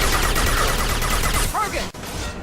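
Dense bursts of sci-fi gunfire in the video game Mass Effect 2, loud and sustained like a rapid exchange during a firefight, with a brief drop-out near the end.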